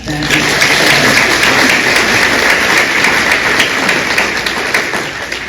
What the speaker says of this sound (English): So can we first clap for that?